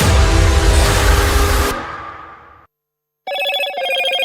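Motorola phone ringtone in a television advert, a bright electronic ringing melody that starts after a fading whoosh and brief silence, loud and clear in the final second.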